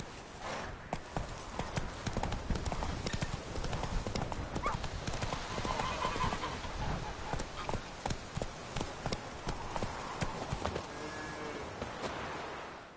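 Roach the horse gallops in The Witcher 3: Wild Hunt, a fast, steady clip-clop of hooves running for several seconds, close and loud over ambient game sound, with a faint whinny near the end.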